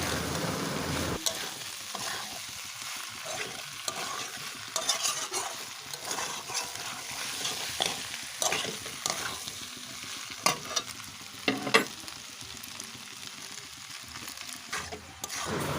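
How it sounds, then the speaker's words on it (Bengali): Pasta cooking in a pan is stirred continually, with repeated scraping and clattering strokes over a soft, constant sizzle, close and fairly quiet, with no talking. "এইভাবে আরও তিন চার মিনিট মতন রান্না করে নেব পাস্তাটা"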